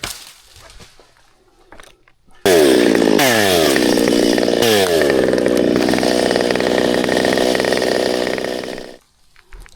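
A chainsaw cuts into a tall dead tree's log, loud and close, revving up hard and holding a roaring, wavering cut for about six seconds before winding down.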